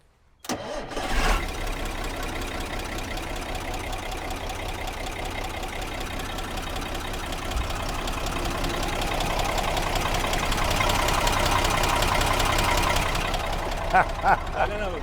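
A well-maintained Mercedes O302 bus engine turns over after a short silence and then settles into a steady, rhythmic diesel idle with a metallic knock, rising slightly in intensity near the end.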